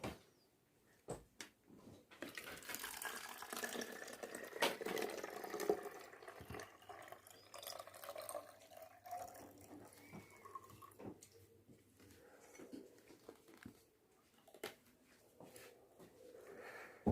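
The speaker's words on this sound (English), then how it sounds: "So I am going to pour water into bottle." Water poured into a plastic bottle fitted with a straw, a continuous splashing trickle with gurgles and small knocks, close by and moderately quiet, without talk.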